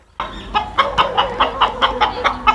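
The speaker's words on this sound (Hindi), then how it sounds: "शायद ये मुर्गा मुझसे डर गया है" A rooster clucks repeatedly in short, rhythmic bursts, close and fairly loud, with no talking.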